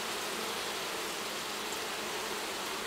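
Dense, steady buzzing of honey bees at a hive on a hot day, a continuous hum with no other sounds standing out.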